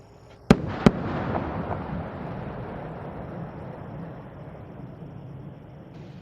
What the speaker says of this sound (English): the Space Shuttle announces its arrival at the launch site with its signature sound of twin sonic booms